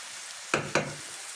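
Spinach frying in a covered pan on a lowered flame: a steady soft hiss broken by two sharp, close sizzling bursts in quick succession.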